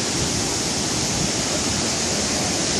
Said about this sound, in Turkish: Asıl şimdi çifte şelalelere bakacağız.